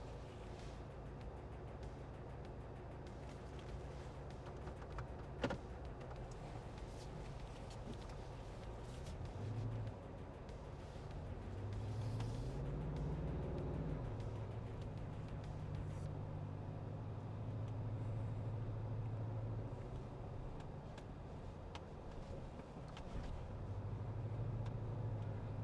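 A 2025 Toyota 4Runner Hybrid on a test drive, giving a low, steady cabin hum of engine and road noise that swells slightly as it accelerates mid-drive, with a brief knock early on.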